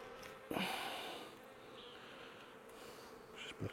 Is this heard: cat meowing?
no